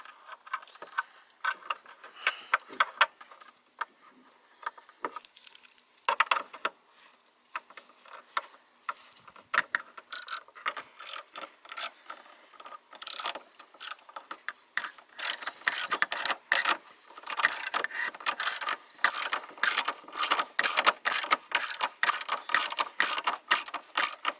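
A ratchet drives the taillight screws home on a 2012 Honda Pilot, long runs of rapid, crisp pawl clicks that start sparse and grow denser and steadier, close up and with no talking.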